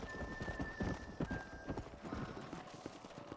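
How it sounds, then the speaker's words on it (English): Horse in the Red Dead Redemption video game galloping with steady clip-clop hoofbeats and a drawn-out neigh, moderately close amid game ambience. "This freaking rebellious horse."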